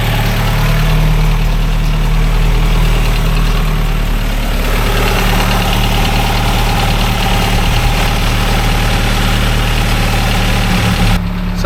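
A Vauxhall Astra GTE 16V engine idles steadily close to the microphone after the sump has been repaired. It gives a loud, constant low rumble with a faint knocking vibration and no talk.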